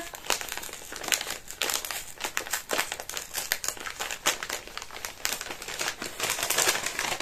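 Gift wrapping paper being torn and unwrapped, a close, busy stream of crinkling and crumpling rustles that keeps going without pause.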